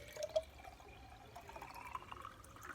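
Water pours into a glass jar until it is nearly full, making a faint, steady trickling and gurgling with a few small splashes at the start, all quiet and close.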